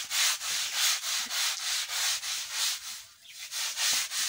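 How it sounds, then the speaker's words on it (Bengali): Floor being scrubbed beside a water tap, rhythmic back-and-forth rasping strokes repeating roughly twice a second, close and fairly loud with one brief pause, no talking. "কলেপার ঘষার জন্য আমরা প্রস্তুত হয়ে গেছি, তো শুরু করছি।"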